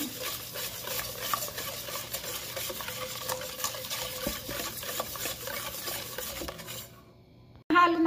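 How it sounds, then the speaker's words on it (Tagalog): Eggs and sugar are stirred together in a bowl for a pineapple upside-down cake, giving a steady, close scraping and whisking sound throughout. It ends with a short quiet pause before one louder clatter. "Pagkatapos ma pinagsama, haluin natin mabuti."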